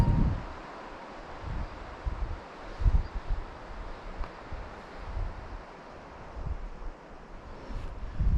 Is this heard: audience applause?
no